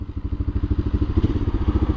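A Honda NX650 Dominator single-cylinder motorcycle engine idling close by, with a steady, throbbing low pulse and rhythmic mechanical clatter that continues alone throughout.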